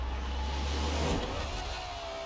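A video game car's engine hums steadily at a sustained pitch while driving, with a slight rise and whoosh midway; a constant, fairly loud motor drone with no talking.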